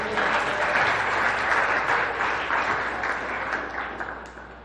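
A church congregation applauds during a celebration service with dense, sustained clapping that fills the room and then slowly fades toward the end.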